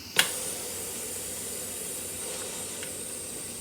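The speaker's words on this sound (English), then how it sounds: "So now that all the steam has been released, you can take the lid off safely." An Instant Pot cooking pork chops lets out pressurized steam as a faint, steady hiss after a brief click at the start, continuing evenly throughout.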